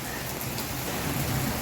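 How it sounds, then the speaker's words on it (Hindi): Heavy monsoon downpour pounds steadily outside a village home, a dense, unbroken roar of rain on surfaces with no pauses or voices, loud and close throughout. "आज हो रही है झमाझम बारिश"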